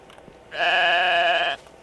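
A single sheep in the game Medieval Dynasty lets out one loud, drawn-out bleat lasting about a second, close and clear against a quiet background.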